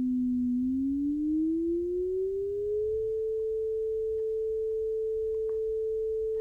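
A pure sine tone generated in Max/MSP glides smoothly upward from about 220 Hz toward 440 Hz, then holds steady as a single clean, fairly quiet tone.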